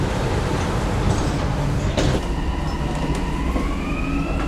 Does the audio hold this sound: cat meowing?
no